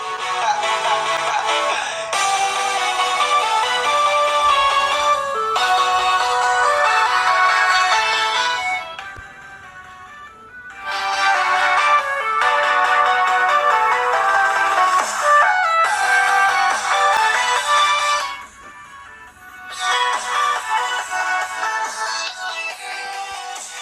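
A ringtone melody plays loudly through the rear speaker of an Infinix Zero 3 phone. Bright, repeating musical phrases run in steady bursts, broken by two short pauses, with no talking.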